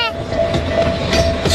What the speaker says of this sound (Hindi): मिनी ट्रेन भी चलती है इस पार्क में